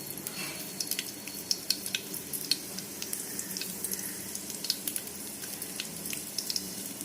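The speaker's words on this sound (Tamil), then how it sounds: "கடுகு உளுந்து போடுறேன் நான் ஏன் நெய்யில் தாளிக்கிறேன்னா" Steady soft sizzling and crackling, with faint scattered pops from mustard seeds and lentils spitting in hot ghee.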